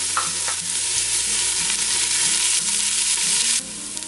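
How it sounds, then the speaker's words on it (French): Chopped onion and garlic sizzle and fry in the pot of an Instant Pot, a steady loud hiss carried along by repeated scraping strokes of a stirring spoon, with no voices. "Je vais brasser 3 à 5 minutes le temps que tout soit doré."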